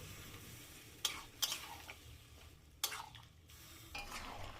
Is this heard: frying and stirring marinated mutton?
yes